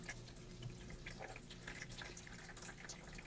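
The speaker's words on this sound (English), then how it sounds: "Let's add our water." Quiet running water splashes and trickles steadily, with small bright plinks and gurgles as it pours into a shallow Playmobil toy pool.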